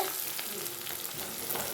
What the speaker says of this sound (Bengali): পেঁয়াজকুড়ি ভাজাটা হয়ে গেছে